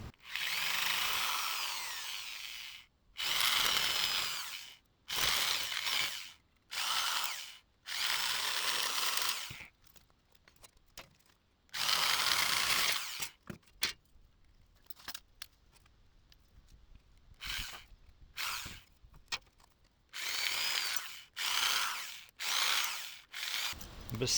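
Repeated bursts of a power drill boring holes through sheet metal for Can-Am doors, each run lasting one to three seconds with short pauses between, loud and close with no talk.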